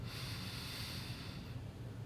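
A deep belly breath drawn in slowly through the nose during breathwork meditation, a close, steady airy inhale heard alone for about two seconds.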